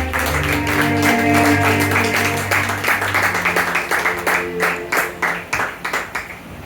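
A church congregation claps along together, the rhythmic clapping building through the second half over sustained music from organ or keyboard, loud and close-sounding.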